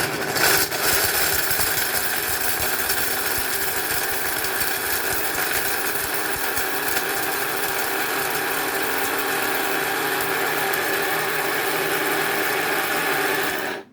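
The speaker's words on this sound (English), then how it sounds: "it only takes a couple minutes to do in the grinder" Electric spice grinder milling homemade spices such as turmeric, a loud steady mechanical whirring hum that runs continuously for the whole span before cutting off at the end.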